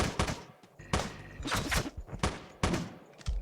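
Rapid bursts of machine gun fire from the top-down shooter game Teleglitch, in three or four loud, dense volleys separated by brief pauses, with no talk.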